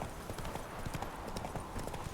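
Horse hooves gallop in The Witcher 3 video game, a rapid, steady clip-clop rhythm at close range, moderately loud over a busy background bed.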